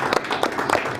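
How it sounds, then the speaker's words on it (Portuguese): An audience applauds in a brief, dense burst of many clapping hands, loud and close, with no talk over it. "De palmas, amigo."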